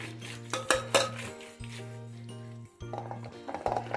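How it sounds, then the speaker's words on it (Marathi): A wooden churner mashes cooked chana dal in a pot, giving irregular knocks and scraping clatter against the metal over a steady background hum, with a quieter pause midway before the mashing resumes. "आता याला घोळून घ्यायचं रवीने बारीक"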